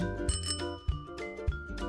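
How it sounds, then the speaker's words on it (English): A bicycle bell rings in three evenly spaced metallic dings, each with a bright sustained ring, clear and close with no talk. "And the bicycle going ring-a-ding-ding."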